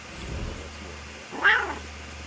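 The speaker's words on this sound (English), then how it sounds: "Hear her mews of protest." In a video game (Horizon Zero Dawn Remastered), a cat gives a single rising and falling meow of protest at close range, preceded by a faint low murmur over a steady background hum.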